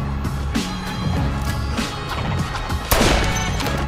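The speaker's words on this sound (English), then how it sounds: "Was that a gunshot?" Gunfire in a Saints Row game trailer, a burst of sharp cracks amid loud action noise, with one strong shot standing out near the end.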